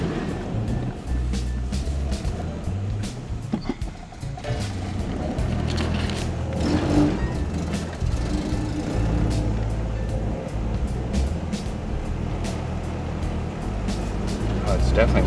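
A first-generation Toyota 4Runner drives on the road after a steering box, idler arm and pitman arm replacement, giving a steady, continuous cabin rumble of engine and road noise throughout.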